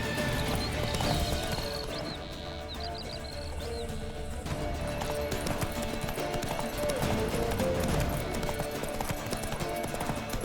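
Horse Roach's hooves clip-clop steadily through the Witcher 3 game world, with an occasional neigh over a dense, continuous background of game sound and music.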